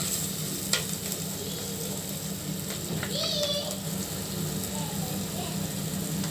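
Curry frying in a pan, a steady sizzle that stays fairly close with a few clinks and scrapes of stirring, while a voice and other household sounds come through faintly in the background.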